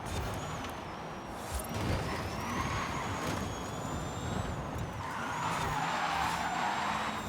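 Cars driving in the video game Forza Horizon, racing and drifting: a steady engine roar with rising whines and hints of tire squeal, running continuously with no talk.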